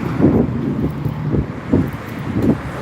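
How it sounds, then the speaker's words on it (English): Gusty wind blowing on a street in Balat, Istanbul, buffeting the microphone in low rumbling surges that swell and fade in several pulses. "I know it's a little windy now,"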